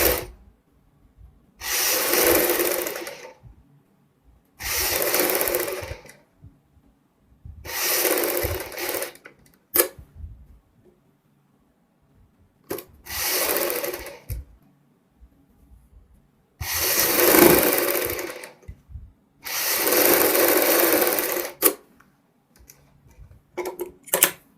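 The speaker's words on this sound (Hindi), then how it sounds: "बुकरम के साथ साथ सिलाई लगाएंगे।" A sewing machine stitches a V-neck neckline together with buckram in about seven bursts of steady whirring, each a second or two long, separated by quiet pauses. The machine is close and clear.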